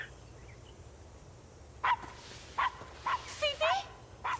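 A tiny dog yaps in the shooter game Blue Estate, with a series of about six short, high-pitched barks and yips, close and clear over a quiet background.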